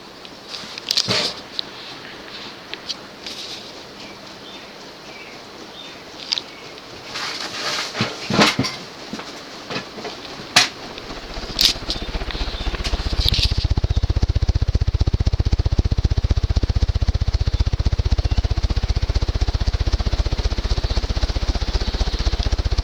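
SMC Standard Series 52-inch ceiling fan, model A52, spinning on high in reverse: a steady broadband whoosh and low hum that swells and holds loud and even after several scattered clicks and knocks, close by.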